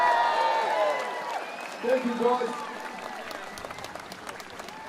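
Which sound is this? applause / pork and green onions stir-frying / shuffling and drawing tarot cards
applause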